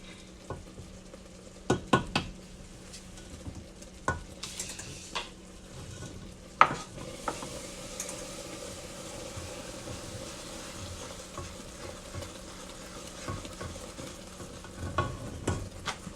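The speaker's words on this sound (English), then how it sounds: "You gotta keep stirring." A spoon stirs thick jam cake mixture in a pot, giving soft, steady scraping broken by occasional sharper clinks and knocks against the metal, quiet and close.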